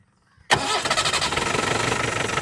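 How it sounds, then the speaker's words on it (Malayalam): An Ambassador car engine cranks once and catches immediately after a brief quiet moment, then settles into a steady, rhythmically pulsing idle close to the microphone. "വണ്ടി ഒന്ന് സ്റ്റാർട്ട് ചെയ്യാം. സൗണ്ട് ഒന്ന് കേൾപ്പിക്കാം."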